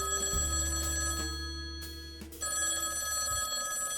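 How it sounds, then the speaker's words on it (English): A telephone rings in a repeated electronic trill from late morning in a radio drama, steady and fairly loud over a low background hum, with no talking. "it totes pissed me off when my phone rang at 11 o'clock in the morning"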